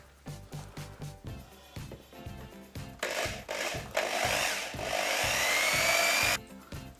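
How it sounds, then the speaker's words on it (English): Power drill boring through the plastic cabinet of a QTX PAJ15A speaker to mount lighting, starting with short rhythmic bursts and then a steady, loud whining grind of several seconds before stopping, close up, with no talk. "get drilling. You're going to want to make sure you're all the way through the cabinet."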